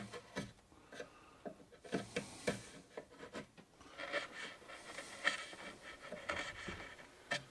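A chisel pared along the grain of a wooden desk part to cut a hinge mortise, faint irregular scrapes and light taps in a quiet workshop, with no one talking.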